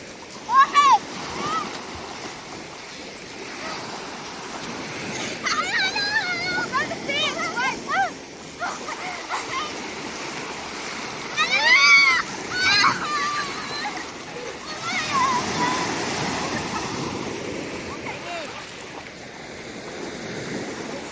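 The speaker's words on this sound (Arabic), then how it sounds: "نزلنا على البحر لنتسابق ويلا نبلش." People swimming a race in the sea on a cold day churn the water with ongoing splashes and surf wash, while children and adults shout and talk excitedly over the steady rush of waves.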